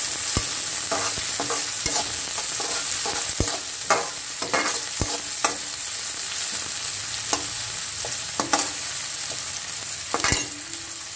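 Onions and mixed vegetables sauté in a pan for a sesame stir fry. A spatula scrapes and knocks in a loose rhythm over a constant close sizzle.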